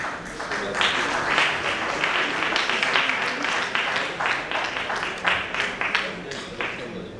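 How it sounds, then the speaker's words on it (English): An audience at a literature festival breaks into sustained applause, dense clapping that swells and continues for several seconds, close and fairly loud. "Big round of applause to the people"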